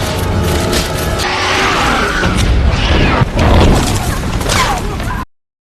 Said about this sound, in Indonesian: terjadi sebuah ledakan besar